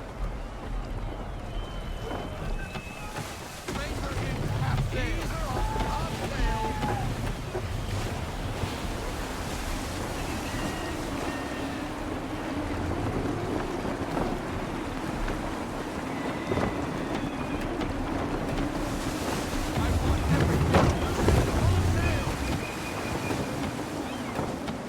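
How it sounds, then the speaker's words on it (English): Gusty wind and surging sea surround a sailing ship in the Assassin's Creed 3 video game, with a steady roar of waves and wind blustering over the hull, swelling louder near the end while faint voices speak in the background. "Wind looks to be shifting. Stay alert, Connor. Gusty winds can be difficult to manage."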